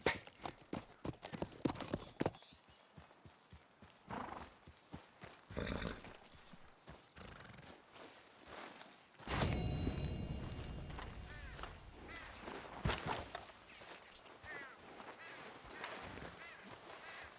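Horse hooves clip-clopping in the video game Red Dead Redemption 2, with uneven footfalls, a horse's whinny and snorts, and a louder burst of movement midway.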